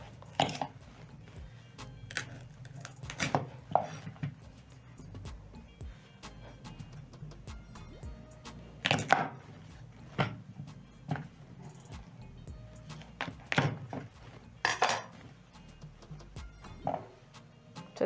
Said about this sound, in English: So next I'm going to chop my cassava in another half, into quarters, that is.